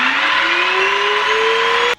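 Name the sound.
TintonLife vacuum cleaner brush head spinning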